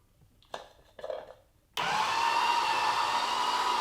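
A Dash electric juicer motor kicks on abruptly after a couple of brief clatters, then runs steadily with a loud, high-pitched whirring drone.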